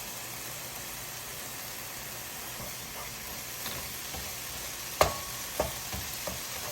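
Ground meat sizzles in a pan on a stovetop burner, a soft steady frying hiss with a few light scraping stirs near the end.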